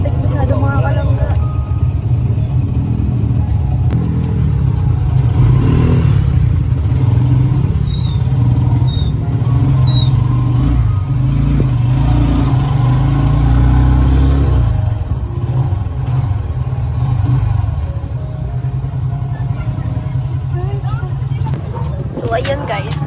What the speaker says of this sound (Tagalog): Grabe po ang traffic. Super traffic po.